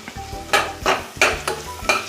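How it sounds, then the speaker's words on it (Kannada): Ginger garlic paste sizzles in a hot pan while a spoon stirs it in quick rhythmic scrapes, about five close strokes over a steady frying hiss, no voices. "ಈಗ 1 ಸ್ಪೂನ್ ಜಿಂಜರ್ ಗಾರ್ಲಿಕ್ ಪೇಸ್ಟ್ ಹಾಕುವ"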